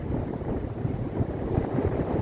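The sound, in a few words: wind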